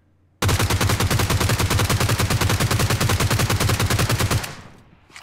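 A G36c rifle in PUBG Mobile empties a full magazine in one sustained automatic burst of evenly spaced, loud, close shots lasting about four seconds, then cuts off with a short fading tail.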